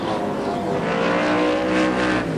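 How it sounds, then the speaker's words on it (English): A sports sedan race car at Amaroo Park in 1988 roars past, a loud sustained engine note that swells and fades as it heads along the short chute. "There he is, Bob Jolly of Victoria, car number 3, heading along the short chute."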